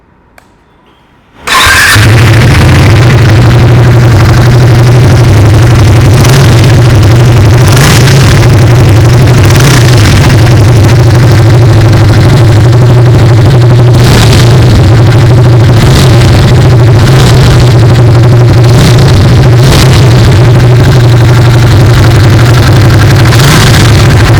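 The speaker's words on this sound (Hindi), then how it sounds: "आइए अभी सुन लेते हैं इस बाइक की एग्जॉस्ट नोट।" A 2025 Triumph Speed T4 motorcycle engine fires up after a moment of quiet and settles into a loud, steady idle with a deep, throbbing exhaust note.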